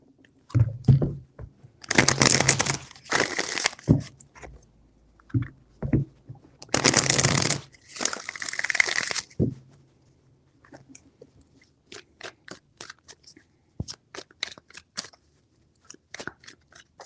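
A deck of tarot cards shuffled three times, each shuffle a dense, crisp riffle of flicking cards lasting a second or two, close and fairly loud, separated by quieter taps and handling.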